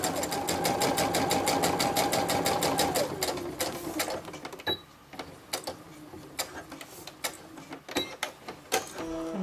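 A sewing machine stitches a tote bag seam with a fast, even run of needle clicks that slows and breaks into scattered ticks and taps as the stitching stops.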